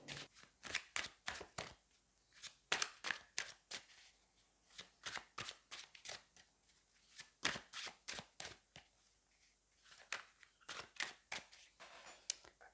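Tarot cards shuffled by hand in repeated crisp riffling bursts at a steady rhythm, close and fairly quiet, with no talking.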